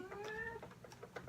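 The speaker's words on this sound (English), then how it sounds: "That's my cat." A house cat meows in a rising, drawn-out call close to the microphone, standing out clearly with no talk over it.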